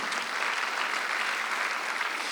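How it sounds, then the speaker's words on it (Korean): A Sunday service congregation applauds in a church, a thick, even wash of many hands clapping at once that holds steady and loud throughout. "박수 하세요"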